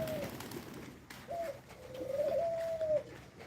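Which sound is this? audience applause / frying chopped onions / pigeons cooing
pigeons cooing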